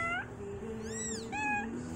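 Newborn kittens from a fresh litter of four give several thin, high, wavering meows in quick succession, close by, over a steady low hum.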